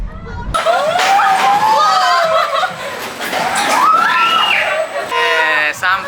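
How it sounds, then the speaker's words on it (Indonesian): Riders on an amusement park ride at Jatim Park scream and shriek loudly together, with rising and falling cries mixed with laughter and chatter, close and continuous throughout. "Ada yang berteriak keras, dan ada juga yang merem selama permainan berlangsung."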